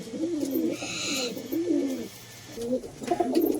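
Short-sized Madras and Giribaz pigeons coo in soft, repeated bursts at close range, with a faint chirp in between.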